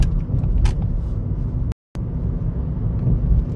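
A car cruising downhill on a dual carriageway, heard from inside as a steady low rumble of road and engine noise with a brief dropout partway through, no talking.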